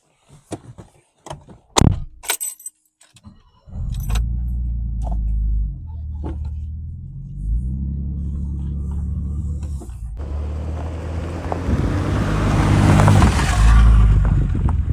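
A 1985 BMW E28 525i with an automatic gearbox: clicks and a door thunk, then the engine starts into a steady idle and pulls away, the rumble rising in loudness as it drives off.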